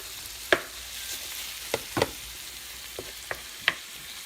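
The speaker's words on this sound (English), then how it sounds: "now I'm gonna go ahead and chop up this 1 pound of ground meat up in there. Let it cook down until it's brown" Ground meat, a pound of it, browning in a pan while it is chopped up, with a soft background sizzle broken by several sharp scraping knocks of the utensil, spaced irregularly and heard close up.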